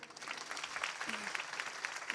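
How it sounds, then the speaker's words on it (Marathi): A kirtan audience claps steadily and warmly for about two seconds, a dense, even patter of many hands from a crowd at a devotional discourse on the Pandharpur wari pilgrimage. "टाळ्या वाजवा ना जोरदार."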